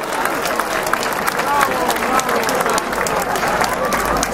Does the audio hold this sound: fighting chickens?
no